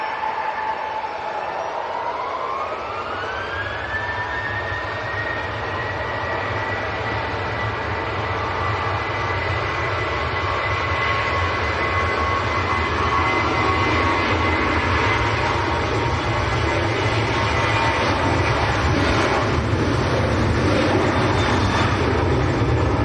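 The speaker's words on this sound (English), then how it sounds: "Next departure's lined up and ready is the one we're looking at now, Ryanair." A Ryanair jet at Manchester Airport, outbound to Bucharest, roars on departure with a rising engine whine and a dense low rumble that holds steady and loud throughout.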